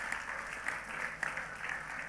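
A church congregation at Elohim Ministry applauds for Jesus Christ: continuous, even clapping from a crowd in a reverberant hall, moderately loud, with a few sharper claps poking through.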